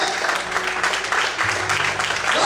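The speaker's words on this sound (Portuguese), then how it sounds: "Aplauda o Senhor essa noite," Congregation applause fills a church during an evening service, continuous dense clapping with a voice and faint music underneath.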